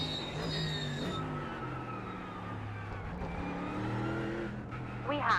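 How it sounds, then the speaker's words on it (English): A BMW race car engine is heard during a night race at Silverstone. The engine drones and rises in pitch as the car passes close by, fairly loud and sustained. "We have a BMW near."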